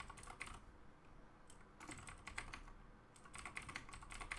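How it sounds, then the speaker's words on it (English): Typing on a computer keyboard, with quick, light key clicks coming in short bursts that pause briefly between them, heard close and fairly quiet with no talking. "Type in my very secure password."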